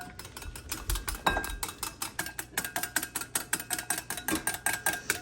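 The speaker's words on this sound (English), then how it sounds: "you have to add it very slowly, like drops at a time, while continuously whisking" A whisk beats steadily against a bowl as oil is added drop by drop to build an emulsion, giving a quick, even rhythm of clinking metal strokes, close and clear.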